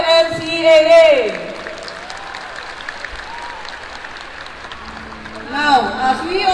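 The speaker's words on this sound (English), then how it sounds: "Let us put our hands together and let us give a round of applause to" A large audience at MOA Arena claps for the opening of the WNCAA's 50th season, sustained applause filling the hall, with an amplified voice heard at the start and again at the end.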